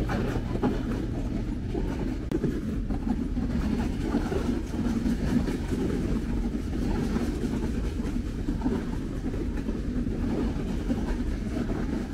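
Rajshahi Commuter train pulling out of Arani railway station in Bangladesh, a steady, continuous low rumble of rolling wheels and carriages with faint rhythmic rail clatter, heard close and alone without talk.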